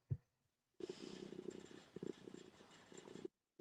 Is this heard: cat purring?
yes